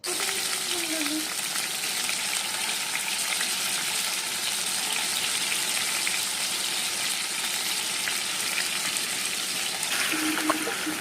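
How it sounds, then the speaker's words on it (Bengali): Marinated chicken fries in white oil, giving a steady, dense sizzle and crackle close up, even and continuous, with a brief voice faintly heard in the background. "তো আমি সাদা তেল দিয়ে ফ্রাই করছি"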